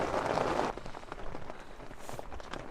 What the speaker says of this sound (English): it has really started raining hard